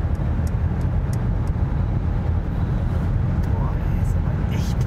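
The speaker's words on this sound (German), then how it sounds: "Und jetzt hören wir wirklich nur Windgeräusche" Steady roar of wind and road noise inside a Mercedes EQE electric car at highway speed, about 130–140 km/h, constant and broadband, with faint occasional ticks over it.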